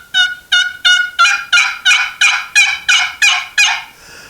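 An old wooden box turkey call imitates a turkey, producing about eleven sharp, evenly spaced raspy yelps, loud and close, with no talking.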